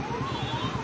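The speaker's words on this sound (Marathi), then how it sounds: "रुग्णवाहिकाही अडकलेली आहे।" An ambulance siren wails steadily as the vehicle sits stuck in a traffic jam of heavy vehicles on a road toward Panaji, its tone rising and falling over a low, continuous rumble of traffic.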